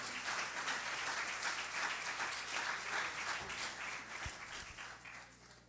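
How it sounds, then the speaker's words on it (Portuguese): A church congregation claps steadily for several seconds, a dense, even patter of many hands with a low hum underneath, gradually easing toward the end. "Quem pode dar um aplauso a Jesus nessa noite?"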